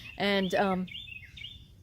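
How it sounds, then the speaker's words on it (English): A short spoken word, then thin high bird chirps sounding faintly in the background. "You can hear the birds chirping in the background."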